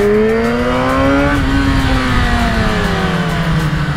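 A motorcycle engine revs loud and close on the Stelvio Pass mountain road, its pitch climbing and then easing down as it sustains a steady roar, without speech.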